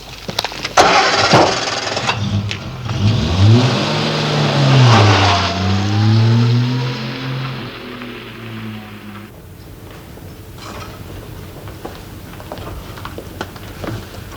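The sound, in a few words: car engine starting and driving off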